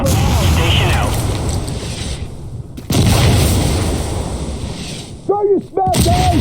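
An artillery barrage in the shooter game Insurgency Sandstorm: loud, close booms and rumbling blasts in two heavy bursts, separated by brief quieter gaps, with a player's voice heard during the barrage.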